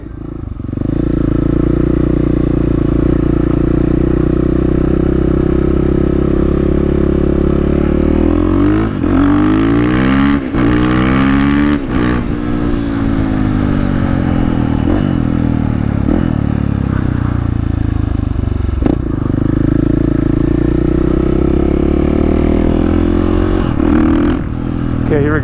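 Supermoto motorcycle engine heard while riding, loud and close, holding a steady drone, then revving up and down through gear changes before settling back to a steady pitch.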